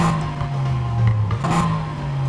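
A 2015 Mercedes-AMG GT in the racing game Need for Speed Heat revs during a burnout, giving a steady, smooth mid-pitched engine drone that swells slightly midway and stays close and loud throughout.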